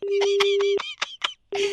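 A telephone being dialed on a radio comedy phone-in, heard as a steady dial tone cut by a run of bright DTMF keypad beeps, then a brief gap before the tone resumes, loud and close.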